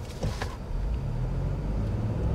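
A 2022 Ford Expedition Platinum Max in sport mode, with a 3.5-liter EcoBoost V6 and 10-speed automatic, hums as a steady low engine drone inside the cabin after a brief rustle at the start.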